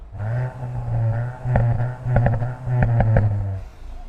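A VW Golf GTI Mark 8.5 engine revs repeatedly in loud, close bursts, each followed by sharp crackling exhaust pops and bangs, with no voices over it.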